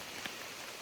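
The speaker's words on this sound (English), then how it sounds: "It's just raining." Steady rain falls on an Appalachian Trail hike, a soft continuous hiss of drops hitting the ground and foliage, faint and even throughout with no voices.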